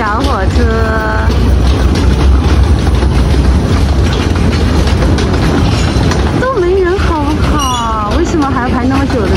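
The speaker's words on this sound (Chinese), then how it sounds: "这个丛林小火车比想象中的要丑" Small jungle tourist train at Iguazu Falls rolling along with a steady low rumble, with voices and chatter on top throughout.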